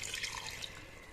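A small splash of water poured into chicken curry as it cooks in a pan, a brief, steady hissing pour heard alone without talk.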